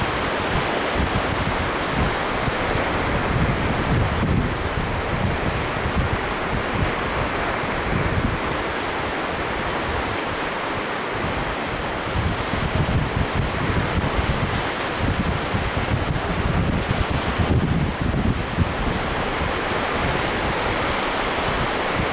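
Rough sea waves break steadily on the beach at Vecāķi on the Riga seaside, mixed with constant gusting wind buffeting the microphone. The roar is broad and continuous, with no voices.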